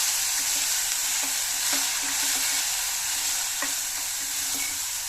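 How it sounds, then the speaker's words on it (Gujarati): Turmeric, red chilli powder and coriander-cumin powder are sautéed with ginger and coconut in hot oil, a loud, steady sizzle with scattered light scrapes of the spoon stirring the pan. "ખાસ તો આદુ અને કોપરાથી આને સહેજ આપણે સાતળી લઈશું"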